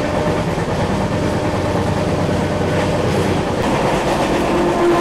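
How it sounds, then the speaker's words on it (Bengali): An early-morning passenger train on a Bishnupur trip rolls along with a loud, continuous rumble and rhythmic wheel clatter heard from inside the carriage, with no voices over it. "ভোরবেলা এই ট্রেন জার্নি"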